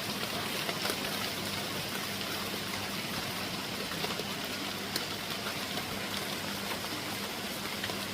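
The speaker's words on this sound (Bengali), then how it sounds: "বৃষ্টির টিপ টিপ শব্দ" Steady monsoon rain patters outdoors as a soft continuous wash of drops with faint scattered taps, moderately quiet and without voices.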